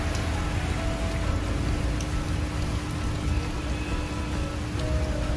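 Heavy rain pours onto a flooded street in Dubai with water running along a wall, a dense, constant hiss of falling and flowing water close to the microphone, with no speech.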